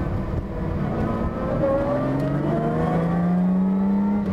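A Lamborghini Miura S engine revs under a light touch of throttle, its pitch climbing smoothly and holding at a loud, steady roar, with no voices over it.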